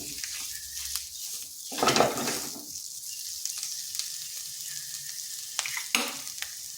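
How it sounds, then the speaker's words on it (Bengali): Grated boiled potato gets stirred and mixed in a pan, with soft scraping strokes and two louder bursts of stirring against a quiet, steady background. "আলুটা ভালোভাবে মিশিয়ে নিচ্ছি।"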